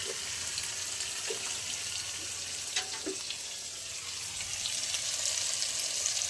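Ground spice paste sizzling in a pan of hot oil for a fish curry, a steady frying hiss with a few faint clinks, no voice.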